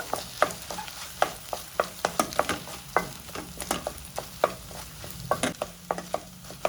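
Lamb brain and egg being stirred and fried in a pan: a steady run of sharp spatula scrapes and clicks against the metal over a low sizzle, close up, with no talk.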